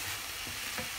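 Thawed grated coconut is stirred into a cabbage curry in a pan, making a soft, continuous sizzle with faint scraping strokes. The sound is quiet and close.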